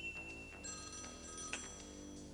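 A telephone rings faintly with a thin, steady electronic tone, heard over a low background hum and a few soft clicks, with no talk.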